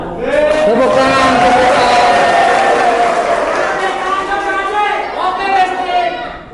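Audience at a school safety quiz competition final applauding and cheering loudly and steadily for several seconds, a dense crowd wash with voices mixed in that tapers slightly near the end.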